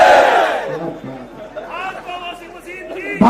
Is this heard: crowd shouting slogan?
yes